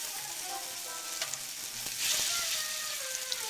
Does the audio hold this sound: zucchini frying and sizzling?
yes